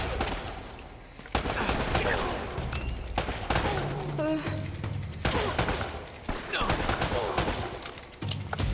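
Enemy gunfire in the action game Uncharted: bursts of shots crackling through a busy battle mix, with a voice speaking over parts of it.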